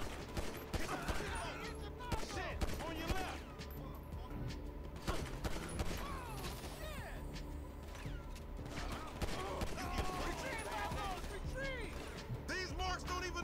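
Gunfire from the video game GTA V, with repeated shots and bursts crackling through a busy mix of game sounds and effects, while someone talks over it throughout.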